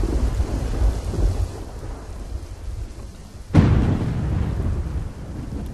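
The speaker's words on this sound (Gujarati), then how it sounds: "વાપીમાં જામેલું આ વરસાદી વાતાવરણ, જિલ્લામાં વરસાદી માહોલ જોવા મળી રહ્યો છે." Steady rain in Vapi, Gujarat, pours continuously while a sharp thunderclap cracks partway through and rolls off beneath the downpour.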